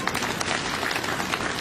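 An audience at a political speech in Nagrota claps for the local MLA, with a dense, steady burst of crowd applause filling the whole stretch at close range.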